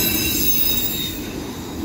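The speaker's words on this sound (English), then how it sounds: "Man, this is kind of in a lame autorack train." A CSX autorack freight train rolling past close by, a loud continuous roar of wheels on rail with high metallic squeal running throughout.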